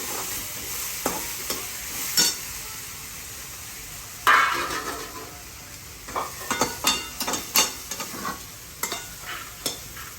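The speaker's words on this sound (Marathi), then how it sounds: "आलं लसूण पेस्ट घालायची. बस ते भाजून घेतो" Ginger garlic paste fries in a pan for Kolhapuri misal, a steady close sizzle broken by a run of sharp scrapes and taps of a spoon stirring against the pan, with no talking.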